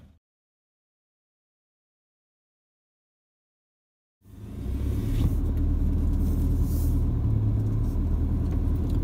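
Toyota Hilux climbing a rock ledge on an off-road track in a state forest: after four seconds of silence a low engine rumble starts abruptly and holds steady and close, with the occasional scrape or knock.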